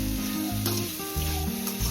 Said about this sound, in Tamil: கொஞ்சம் போல் மிளகுத்தூள், உப்பு கொஞ்சம் போல் போட்டு லைட்டாக ஃப்ரை பண்ணி எடுத்துடலாம்